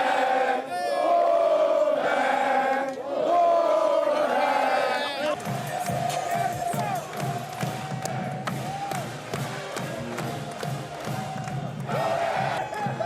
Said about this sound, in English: The team returned to Raleigh early this morning, welcomed by a crowd of supporters.